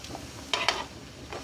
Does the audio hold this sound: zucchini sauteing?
yes